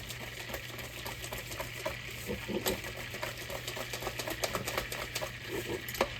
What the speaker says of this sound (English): I'm just gonna use my whisk. Whisk that up.